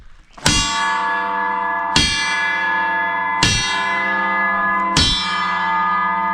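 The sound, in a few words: church bells ringing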